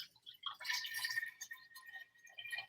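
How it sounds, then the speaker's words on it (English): Liquid trickles and drips faintly and close by as apple cider vinegar is poured into a jar, with small, uneven splashes. "water sounds, water sounds."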